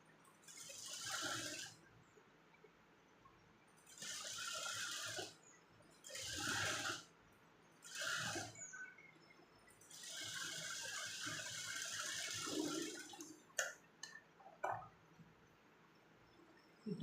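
A sewing machine stitches a navy blue printed blouse in several whirring bursts of varying length, the longest running about four seconds, with short gaps between them and faint handling clicks near the end.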